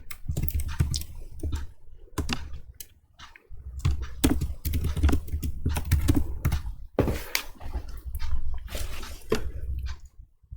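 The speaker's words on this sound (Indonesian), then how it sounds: "pilih Backspace pada keyboard, yaitu tombol keyboard yang paling panjang. Diklik atau ditekan beberapa kali." A computer keyboard's long Backspace key is pressed over and over, giving a close series of sharp clicks in irregular bursts with short pauses, loud and alone without speech.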